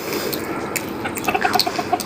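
Chickens clucking in short, repeated bursts, fairly close, in a village farmyard, over a steady background hiss.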